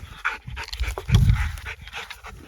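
A dog pants hard and fast while tugging at a tree limb outdoors in the Blue Mountains, breathy gasps close and steady with a brief strained whimper-like burst in the middle.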